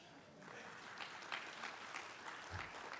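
An audience claps at a workforce forum, a faint, even patter of many hands that swells slightly and carries on for a few seconds.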